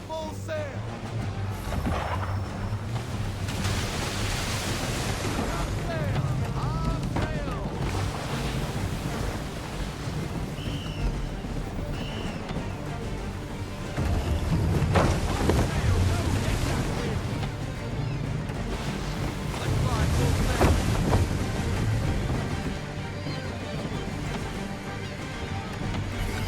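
A sailing ship at sea under full sail in Assassin's Creed 3 Remastered: loud, steady rush of wind and breaking surf that runs throughout, with swells of louder water at a couple of points.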